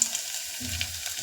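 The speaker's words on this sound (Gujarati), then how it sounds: "તો ગાઈસ વઘાર તો ચટકશે" Spices tempering in hot oil in a village kitchen, a dense steady crackle and sizzle with a few sharper pops, close and fairly loud, with no talk.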